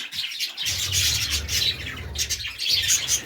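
Parrots chirp and squawk inside an aviary, a dense overlapping chatter of sharp high calls close by, with soft low rustling underneath.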